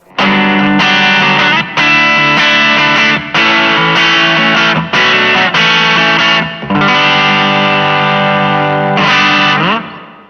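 A distorted electric guitar plays a chordal phrase of repeated strums through a ZOOM MultiStomp MS-50G reverb, loud and dense, each chord trailing into a short reverb tail.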